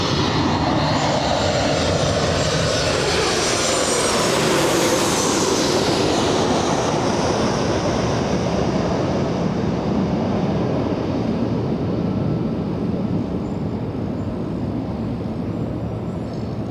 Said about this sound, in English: Good touchdown on that one.